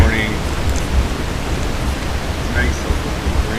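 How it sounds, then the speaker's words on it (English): Rain falls on an island campsite during a solo kayak camping trip, making a steady, dense hiss that holds at the same level throughout, with faint higher brief sounds now and then. "It's nice out with the rain."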